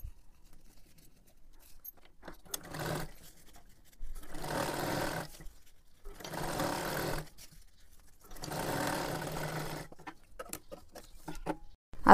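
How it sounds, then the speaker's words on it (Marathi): A sewing machine stitches a salwar in four close, loud bursts of rapid whirring needle action, separated by short quiet pauses. "आता इथे पूर्ण शिलाई मारून घेतली"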